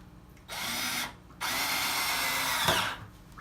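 A power drill drives a screw into melamine board while building a reptile enclosure, running in two close, loud bursts with a short pause between them.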